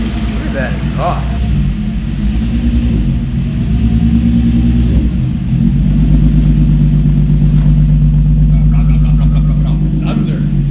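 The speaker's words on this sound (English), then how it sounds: "Look at that exhaust." An Infiniti G35 coupe engine rumbles loudly and steadily from its exhaust, a deep continuous drone that rises slightly midway, with people talking over it.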